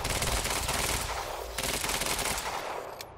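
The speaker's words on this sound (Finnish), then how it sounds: "Ja mä ammun ton." Rapid automatic gunfire in the video game Quantum Break, a dense, loud continuous burst of shots lasting about three seconds, close and unbroken, with a brief dip midway and no talk over it.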